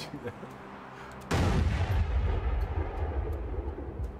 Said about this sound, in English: that's a shitty cannon if it just, shoots 10 meters straight and then